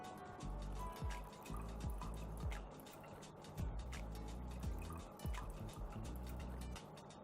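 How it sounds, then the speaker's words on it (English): Hot boiling water swirled inside a teapot and poured away, with quiet sloshing, dripping and a thin trickle recurring in short bursts, faint and close. "So I had some hot boiling water inside already. Just swirl it around and pour it away."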